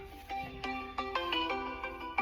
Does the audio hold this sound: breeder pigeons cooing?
no